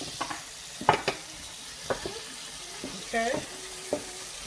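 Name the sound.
sweet pepper frying and being stirred in pan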